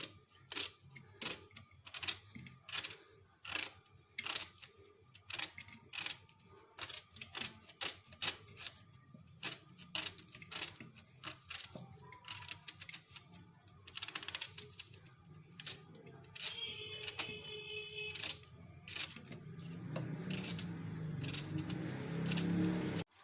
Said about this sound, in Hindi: प्याज को हम बारीक काट लेंगे। इस तरह से आप प्याज काट लें।